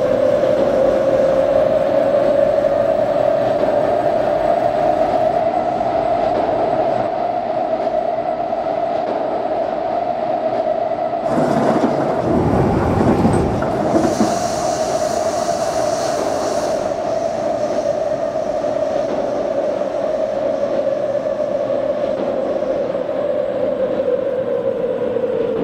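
A C751B electric train runs in the openBVE simulator with a steady tonal motor whine and rolling hum throughout, swelling briefly with a burst of clattering noise midway before settling back to the even drone.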